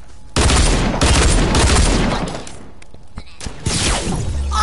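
Sniper fire in an online shooter video game: a sudden loud crack opens a run of sharp, close gunshot bursts, then the clip settles and a last burst of firing flares near the end.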